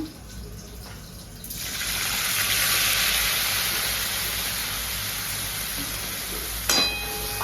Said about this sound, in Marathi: तर आपण ह्याच्यात टाकूया आपले हे पनीर फ्राय करायला